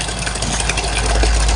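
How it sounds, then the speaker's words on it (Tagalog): A steady, close engine drone from a motor-driven pump drawing water from a backyard well, holding an even hum throughout with no speech over it. "Nilagyan lang namin ng motor."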